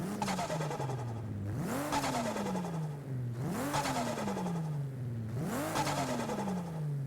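A Toyota Supra's engine in Forza Horizon 5 revs hard three times, each pull rising sharply then sliding back down in pitch, loud and close with no talk over it.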